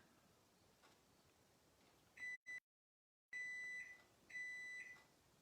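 A home kitchen microwave sounds a short series of electronic beeps after heating a muffin, clear tones separated by brief gaps against an otherwise quiet room.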